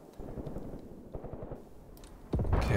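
Machine gun fire in the WWII tactics game Graviteam Tactics Mius Front, faint rapid bursts of rattling shots in the distance, ending in a louder, heavier blast of gunfire.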